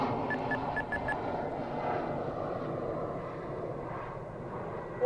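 An E-Flite V1200 RC jet plane flies at half throttle, a steady distant whooshing drone from the electric ducted fan, with a few faint beeps early on.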